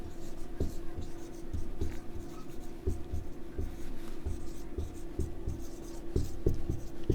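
Chalk or marker writing on a board in a classroom, a steady run of short scratchy strokes and taps with low room hum, no voice present.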